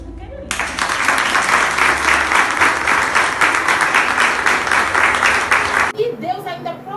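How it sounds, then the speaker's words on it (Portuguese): An audience at a church devotional bursts into sustained, loud applause lasting about five seconds, then stops abruptly as a voice resumes. "Então vamos aplaudir Jesus porque ele é lindo."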